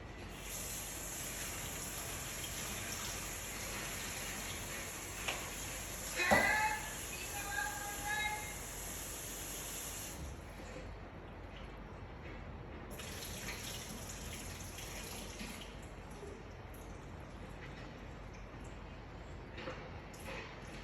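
Water drains from a pot while adobo is being cooked, a continuous splashing rush at a sink for about ten seconds that stops and then runs again more softly, with a voice now and then.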